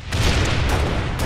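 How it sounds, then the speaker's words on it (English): Rocket blasts in Halo Reach multiplayer, a loud continuous rumble of booming explosions with deep low-end weight and no break for the whole moment. "Those rockets came out of there."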